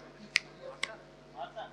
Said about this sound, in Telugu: గట్టిగా చిటికలు ఒకసారి అందరూ